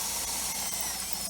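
A power drill runs steadily and close while boring 3/16-inch holes during an install on a rusty Ford F150, a continuous whine with slight bumps as the bit bites.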